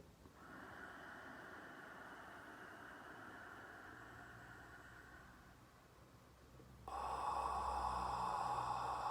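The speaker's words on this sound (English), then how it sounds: "Inhale." A deep, steady inhale through the nose during a Ki-breathing exercise, a long airy rush lasting several seconds close to the listener, with no talking over it.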